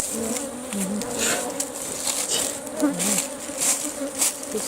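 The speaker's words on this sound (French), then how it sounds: "Si on met trop de temps, on excite les abeilles." Honeybees buzz around an open hive in Benin with a close, wavering drone that rises and falls as individual insects pass near, scattered with faint rustling taps.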